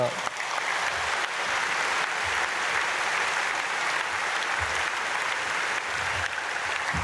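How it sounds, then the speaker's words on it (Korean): A church congregation at a dawn prayer service claps steadily and warmly for several seconds, a dense sustained round of applause filling a large sanctuary. "우리 사랑하는 자녀들 박수로 축복하겠습니다."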